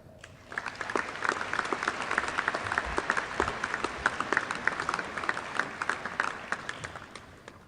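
Sustained audience applause fills a university graduation ceremony hall, dense steady clapping from a large crowd that starts abruptly and carries on evenly throughout.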